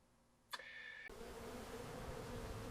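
A steady buzz of bees around potato plants fills the air outdoors after a brief high whine, droning continuously at moderate volume with no voices.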